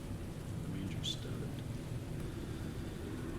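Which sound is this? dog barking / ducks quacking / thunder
thunder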